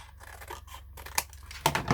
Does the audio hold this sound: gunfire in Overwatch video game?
no